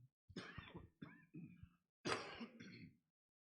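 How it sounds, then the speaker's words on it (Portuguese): Several raspy coughs and a throat clearing from a sore throat, close and fairly quiet, in short bursts separated by brief pauses. "Estou com minha garganta ruim, tossindo um pouco"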